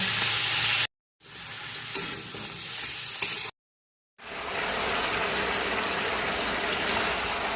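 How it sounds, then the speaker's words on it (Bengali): Ground radhuni and ginger paste frying with vegetables in a pan for red shukto, a steady loud sizzle with occasional stirring scrapes, broken by two brief pauses, close up with no talking. "এবার আমি এইটাকে ভালো করে একটু মশলাটা ভেজে নেব"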